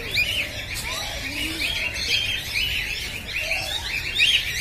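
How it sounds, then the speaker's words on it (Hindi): Birds chirp and tweet repeatedly in short, high bursts over a steady background hum at a zoo, several calls overlapping at moderate distance. "इसकी आवाज जो होती है चहचहाने की, देखिए आवाज आ रही है।"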